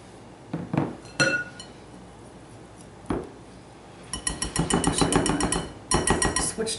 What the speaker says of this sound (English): I'm just gonna borrow this whisk here and kind of get that all incorporated